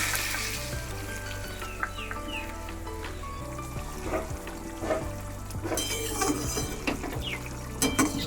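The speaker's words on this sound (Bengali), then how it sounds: "ভেজে রাখা আলু আর পনিরটা একসঙ্গে দিয়ে দিলাম একটুখানি হলুদ দিয়ে দিচ্ছি হলুদটাকে একটু ভেজে নিয়ে" Potatoes and paneer frying with turmeric in a pan, a steady loud sizzle throughout with intermittent scrapes and clinks of a spoon stirring against the metal, no voices.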